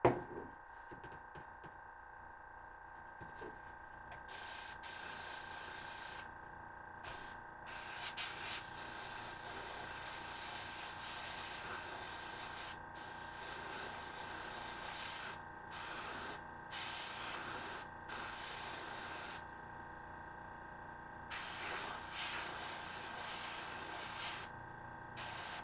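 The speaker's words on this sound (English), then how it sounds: "One thing you can do is run air through the airbrush to help dry." An airbrush blows a steady stream of air to dry freshly applied paint on custom marble bases, a continuous close hiss that cuts in and out in several short bursts.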